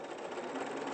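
Sewing machine stitching a quarter-inch seam in quilt fabric, a brief, fast, even whirr of the needle mechanism running continuously, close and moderately loud.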